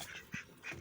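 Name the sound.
ducks quacking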